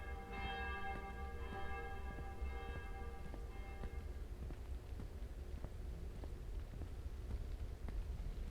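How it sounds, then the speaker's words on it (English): Town bells ring out with bright, overlapping tolls over the first few seconds, then fade under a dense, rumbling backdrop of steady noise and scattered knocks. "soon the town bells chimed aloud"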